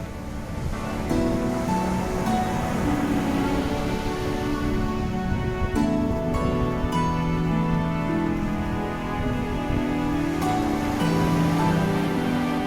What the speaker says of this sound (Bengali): সমুদ্রের ঢেউয়ের গর্জন শুনেই